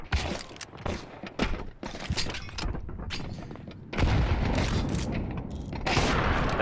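A grenade bursts amid rapid gunfire during a professional Counter-Strike match, with loud booms, sharp shot bursts and a heavier blast about two-thirds through.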